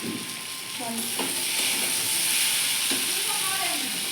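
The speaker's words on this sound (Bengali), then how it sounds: "লঙ্কা গুঁড়োটা ভেজে দেওয়া ভালো" Chili powder frying with potatoes in a hot pan gives a steady close sizzle and hiss, with a few brief clinks and scrapes of stirring over the frying.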